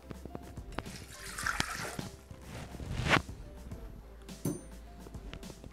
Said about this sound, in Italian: versiamo all'interno del boccale l'acqua